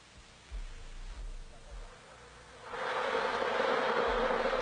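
Honeybees buzz in a soft drone that swells to a louder, fuller hum partway through, continuing steadily to the end.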